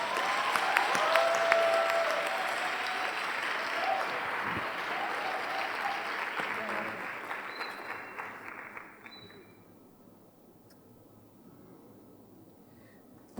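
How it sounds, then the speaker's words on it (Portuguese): Church congregation welcomes Bishop Lúcia with a warm, sustained round of applause and cheers that builds and then tapers off to near quiet after about nine seconds. "Então eu queria que vocês recebessem a nossa profeta, Bispa Lúcia, com uma salva de palmas."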